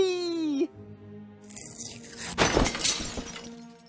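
Stained glass window shattering in the video game Deponia Doomsday: a sudden burst of breaking glass and scattering shards, loud and close, trailing off after a preceding tonal wail.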